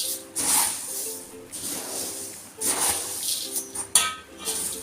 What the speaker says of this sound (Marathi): या प्रकारे पोहे व्यवस्थित भाजून घ्या.